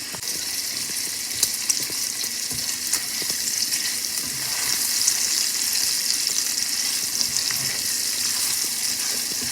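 Food frying until crispy for a Southern-style home-cooked dinner, giving a steady, dense sizzle with soft crackles that runs unbroken the whole time, fairly close and with no voices.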